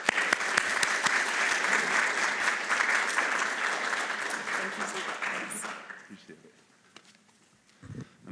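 Audience applause welcomes Baltimore City Councilman Zeke Cohen to a campus talk, a dense, steady clapping that fills the room for about six seconds, then fades out abruptly into near quiet.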